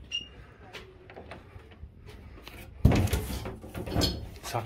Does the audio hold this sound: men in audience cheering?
no